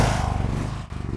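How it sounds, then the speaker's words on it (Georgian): A generator engine running loud and close right as it is started at a workshop, a steady low harmonic drone with a brief dip near the end before it carries on. "მოდი გენერატორი ჩავთვით"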